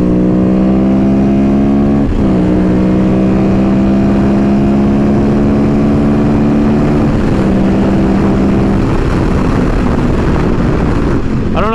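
Ducati Monster S2R 800 motorcycle pulling hard onto a freeway, its engine note rising through gears with a shift break around two seconds, loud and close with heavy wind rush.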